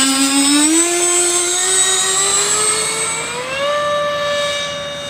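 A Blitz RC A-10 Warthog model jet flies overhead with a loud, steady turbine whine whose pitch climbs in smooth sweeps as it passes, with no voices.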